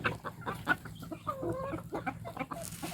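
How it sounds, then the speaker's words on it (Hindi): A Rhode Island Red hen clucks in short, repeated bursts nearby, with soft farmyard background noise and no talking. "और ये रही हमारी RIR मुर्गी।"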